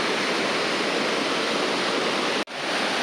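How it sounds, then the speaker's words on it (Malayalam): A multi-tiered waterfall at Aruvikkuzhi cascades down into a stream below, a loud, dense, unbroken roar of rushing water that fills the whole clip, briefly cut by a momentary dropout near the end. "ഇങ്ങനെ ഒഴുകി ഒഴുകി ഒഴുകി താഴേക്ക് പോവുകയാണ്"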